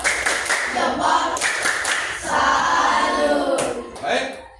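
A group of Indonesian schoolchildren clapping a rhythmic cheer in a classroom, loud and close, in bursts with short breaks and some chanting voices mixed in.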